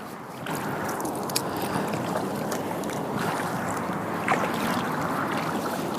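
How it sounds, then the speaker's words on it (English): Kayak moving along an urban stretch of the Lower Grand River, with continuous water swirl and splashing from paddle strokes, steady and close, plus a few brief sharper splashes and no talking. "Little urban kayaking adventure for you guys today."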